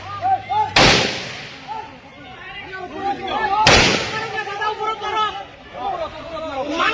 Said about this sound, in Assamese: আৰক্ষীয়ে পৰিস্থিতি নিয়ন্ত্ৰণ কৰাৰ বাবে শূন্যলৈ হাত যাই গুলীচালনা কৰাৰ পিছতহে পৰিস্থিতি নিয়ন্ত্ৰণ হয়